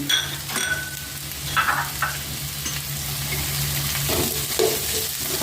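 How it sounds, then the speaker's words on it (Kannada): Garlic and ginger fried in a pan for a Bangalore-style biryani, a steady sizzle with intermittent scraping stirs and light clinks, close by with no talking. "ಇದನ್ನು ಸ್ವಲ್ಪ ಫ್ರೈ ಮಾಡ್ಕೊಳ್ಬೇಕು"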